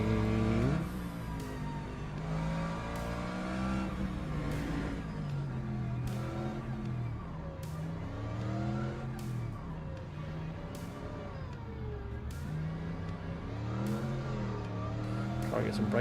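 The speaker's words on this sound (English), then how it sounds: "Nice fat burnout, get some rear tyre temp." Race car burnout during a formation lap in the Le Mans Ultimate racing game, a loud, sustained engine roar whose pitch keeps rising and falling with revs, overlaid by crowded engine noise throughout, with a voice talking over it.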